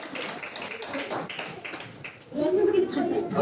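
A classroom of students clapping together during a food chain teaching demonstration, a dense burst of claps rising loud after quieter tapping and chatter.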